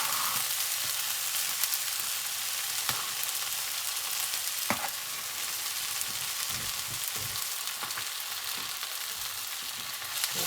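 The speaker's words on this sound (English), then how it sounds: "I'm going to add the garlic and the ginger and carefully, gently fry it for about 2 minutes." Garlic and ginger fry gently in a pan for a curry paste, giving a steady, close, continuous sizzle with a few soft stirring clicks and no voices.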